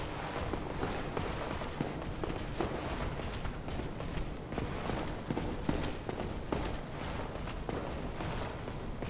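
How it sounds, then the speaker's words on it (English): Footsteps in Dark Souls sound as a steady run of soft, rapid thuds with faint metallic clinks over low ambient noise. The steps continue throughout without pause. "I hear a lot of footsteps."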